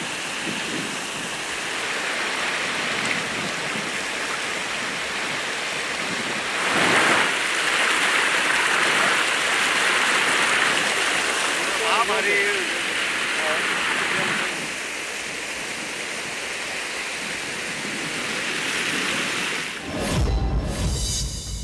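Large volumes of water flow into the Tungabhadra reservoir, a broad, steady rushing roar that swells midway and holds for most of the stretch before a brief louder burst near the end.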